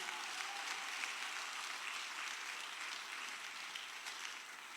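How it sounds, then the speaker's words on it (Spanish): Steady applause from a church congregation during a Spanish-language sermon, a faint, even wash of clapping that holds for several seconds with no talking over it. "Dele fuerte el aplauso a Dios."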